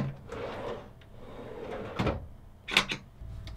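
Bamboo drawers in a camper van built from a four-wheel-drive Mercedes Sprinter slide and knock shut, with soft rubbing movements followed by two sharper wooden clunks near the end, close and fairly quiet.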